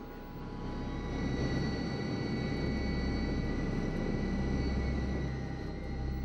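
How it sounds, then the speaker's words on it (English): A large transporter plane at a remote Antarctic base near the Ellsworth Mountains, serving a blue-ice runway, gives off a steady, loud engine roar that swells slightly and holds, with no talking. "It can only be accessed by large transporter planes which land on a natural landing surface, the Blue Ice Strip."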